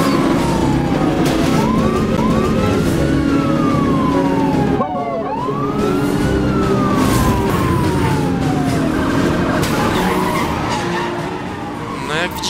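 Wailing police siren sweeping up and down repeatedly with a brief break, over a loud racing car engine and tyre skids during a police patrol encounter in the video game Need for Speed: Hot Pursuit.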